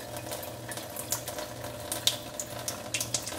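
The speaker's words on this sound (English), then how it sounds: "Functional water comes out." A Tyent 9000T water ionizer dispenses functional water in a quiet, steady trickle with small splashing flickers, close by and without talk.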